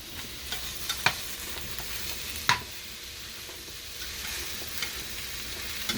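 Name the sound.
mushrooms stirred with a spatula in a frying pan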